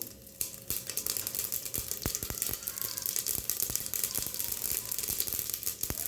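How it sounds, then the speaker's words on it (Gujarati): Mustard seeds, cinnamon and cloves go into hot oil for a tempering, setting off a loud, dense crackle with frequent sharp pops that runs continuously at close range after a brief quieter start, with no talking. "હવે રાઈ અને તજ અને લવિંગ આપણે વઘારમાં નાખીશું અને એ તતડી જાય એટલે જીરું નાખીશું"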